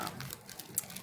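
An old, loud air conditioner runs as a steady broadband whir with faint rattling ticks, heard close and alone in a room.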